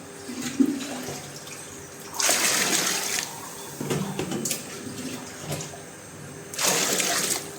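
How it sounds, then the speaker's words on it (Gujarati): Water pours from a vessel into a pot of boiled pigeon peas, with splashy gushing bursts recurring several times, each a second or so long, fairly close and moderately loud. "અત્યારે હું પાણી નાખી રહી છું"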